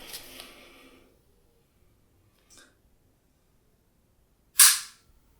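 A single crisp, sharp click from the trigger of a custom Guarder Glock 19 build rings out close and alone after a quiet stretch, with a smaller tick a couple of seconds before it.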